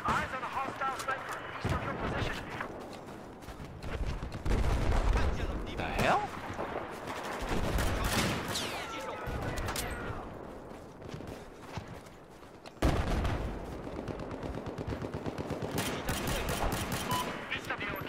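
Bursts of M60E4 machine gun fire in Battlefield 4 on Xbox One, loud and sustained across the clip amid other battlefield sounds, with a player talking over parts of it.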